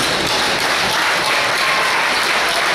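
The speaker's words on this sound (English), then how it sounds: "inevitably the first Wrexham player to come out would get a huge cheer" A Wrexham football crowd greets player Christian Smith with a dense, steady wash of applause and cheering that fills the whole stretch at close, even loudness.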